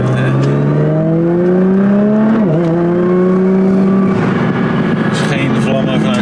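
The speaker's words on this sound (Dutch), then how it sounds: "Ja, oké, hij draait de toeren" A Nissan GT-R tuned to 1400 hp revs hard nearby, its engine note climbing steadily, dipping briefly and rising again, loud and close with a voice talking underneath.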